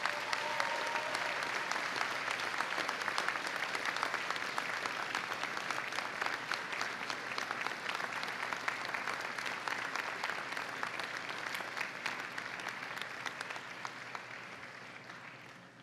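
Graduating students at a university spring convocation give a long round of applause, a dense, even wash of many hands clapping in a large hall that stays steady for about sixteen seconds before slowly fading.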